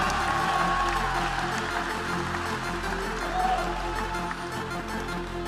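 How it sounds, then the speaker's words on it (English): Arena crowd applauding and cheering after a professional fight, a broad steady roar of clapping and voices with a low hum beneath, sustained at moderate level without a clear break. "a round of applause for both of these amazing athletes"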